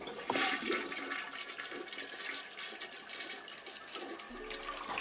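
A toilet flushes in one continuous rushing, gurgling surge of water that carries on for the full length, close and clear, with no voices.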